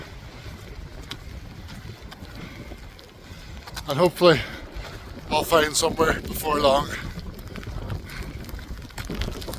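Strong wind on a choppy stretch of the Irish coast during a yellow rain warning roars steadily against the microphone while someone talks briefly over it partway through.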